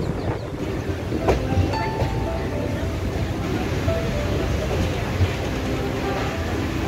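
The Hazarduari Express rolls along the rails, a dense continuous rumble with faint rhythmic clatter from the carriages, heard loud and close from on board.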